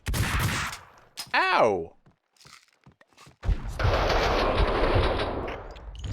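Rapid bursts of gunfire from the Max Payne video game ring out, with a loud opening volley, a short cry of pain, scattered quiet thuds, then another sustained stretch of heavy shooting.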